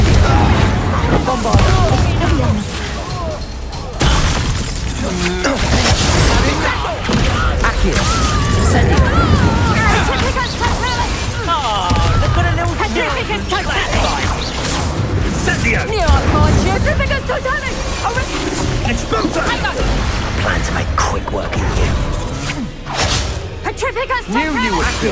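Spell explosions from Incendio and Bombard in the video game Hogwarts Legacy: loud, dense booms and whooshing blasts come one after another, with music and voices mixed throughout.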